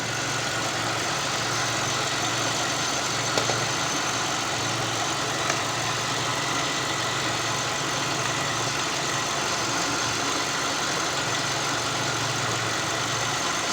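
An Audi A3 8P 1.6 MPI engine idles steadily after a thermostat and temperature sensor replacement, with a constant low rumble and hum, unchanging throughout with no voices.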